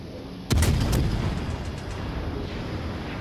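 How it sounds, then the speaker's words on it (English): Naval gunfire in World of Warships Legends: a loud, sharp salvo of several booming shots in quick succession, followed by a long rumbling decay. "Do some absolute horrible shooting right now."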